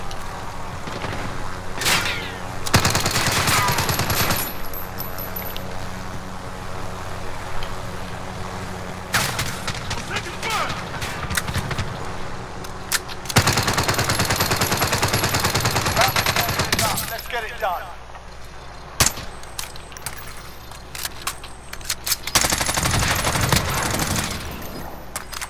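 Rapid machine-gun bursts and single gunshots rattle through a Call of Duty: Modern Warfare firefight, dense and loud with brief lulls, booms and scattered impacts over the din.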